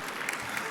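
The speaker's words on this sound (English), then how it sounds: "let's clap for that. I like clapping." An audience at a charity gala event claps together in a short, steady burst of applause, fairly loud and continuous with no talking over it.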